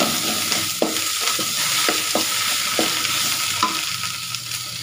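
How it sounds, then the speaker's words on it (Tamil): Amurthavalli (Indian borage) leaves sizzle steadily in a pan nearby while a spoon scrapes through them in about half a dozen separate strokes, no talking. "இதாங்க நல்லா ஃப்ரை ஆகிடுச்சு,"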